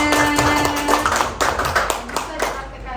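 A group applauding at a school staff meeting, a short burst of many hands clapping close by, fading out toward the end, with some voices mixed in.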